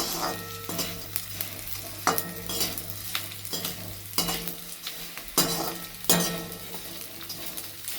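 Edible gum (gundar) roasts in a pan for gundar pak, with a steady sizzle and repeated scraping, clinking stir strokes of a spoon against the metal, close and continuous.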